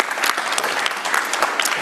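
A conference audience claps in a steady burst of applause, moderately loud with dense overlapping hand claps and no voices on top.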